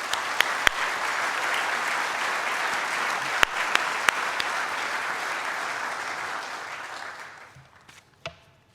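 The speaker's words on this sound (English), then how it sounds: "A round of applause for Michelle, please." An audience applauding at a speech, a dense burst of clapping that holds steady for several seconds and then fades out, with a few sharp claps standing out.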